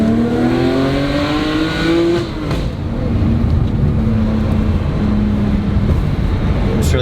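Modded BMW 328i engine revving and settling into a steady exhaust burble, loud and close, with a rising rev in the first seconds then a sustained rumbling idle.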